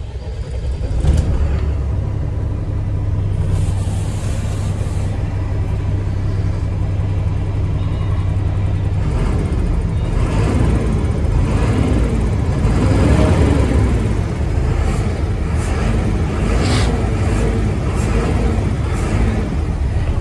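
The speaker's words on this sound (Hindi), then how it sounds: "एक बार इंजन नॉइज़ भी सुना देता हूं।" A Tata Signa 5530.S BS6 truck's large diesel engine idles with a steady, deep rumble, running continuously and close by, with faint hissing bursts over it.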